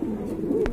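Pigeons cooing at a pigeon market, a close, continuous throaty coo rolling along with a brief click near the end.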